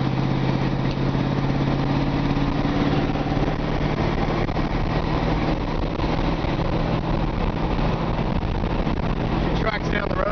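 A 1950 Ford F1 pickup truck's engine runs steadily while driving, a continuous low mid-pitched drone with a constant level throughout, close and loud with road noise mixed in.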